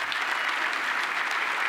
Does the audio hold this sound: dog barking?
no